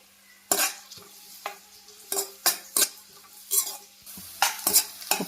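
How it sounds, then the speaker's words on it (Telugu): Onions being stirred in a pan for egg Maggi masala, a metal spoon scraping and clinking against the pan in about a dozen sharp, irregular strokes, close and clear with no talk. "ఒక్కసారి కలుపుకున్నామండి."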